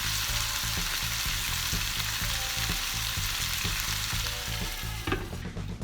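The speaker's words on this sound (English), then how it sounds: "I'm gonna cover this up and let it cook" Shrimp and potatoes cooking in a covered pan, giving a loud, dense, continuous sizzle with a faint regular pulsing under it and a clatter near the end, no voices.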